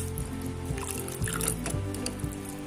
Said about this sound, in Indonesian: Kemudian kita siram dengan air dingin supaya tidak menggumpal.